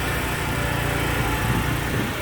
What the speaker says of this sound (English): This guy behind me that's doing the lawnmower